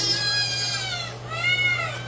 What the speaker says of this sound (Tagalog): Yung mga pusa ko po ay Persian.